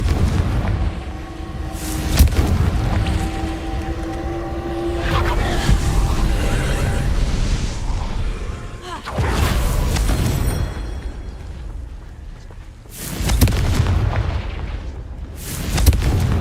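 The Confringo fire spell in the Hogwarts Legacy game sets off heavy, rumbling blasts. Several loud booms are separated by sustained roaring stretches, with a deep explosive texture throughout.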